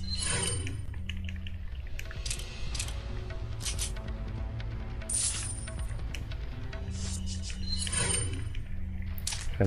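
A rifle is reloaded in Resident Evil 4 Separate Ways, a run of metallic clicks, ratchets and rattling mechanism sounds layered over steady low game ambience and music, moderately quiet.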